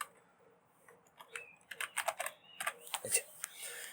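Fingers tap out text on a computer keyboard while filling an MS Word text box: quiet at first, then quick, uneven bursts of sharp key clicks close by.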